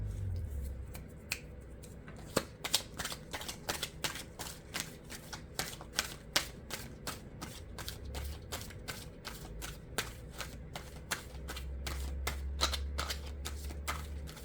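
A deck of tarot cards shuffled by hand, a rapid, evenly spaced run of crisp snapping flicks lasting the whole stretch, close and fairly soft over a low background hum.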